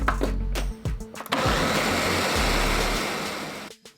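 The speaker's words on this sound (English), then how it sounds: "hold on, I gotta plug in my blender" A countertop blender purees butternut squash. A few clunks come first, then the motor roars loudly and steadily for about two seconds before winding down abruptly.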